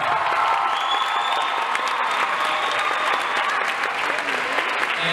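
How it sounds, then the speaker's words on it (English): Steady, dense audience applause fills a high school musical performance in Belleville, New Jersey, a sustained clapping crowd throughout with faint cheering mixed in. "give it a round of applause"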